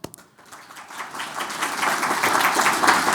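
Clapping from an audience at a presentation on Hokkaido starts sparse and builds into fuller, steady applause, many hands at moderate distance.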